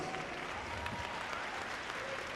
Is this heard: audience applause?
yes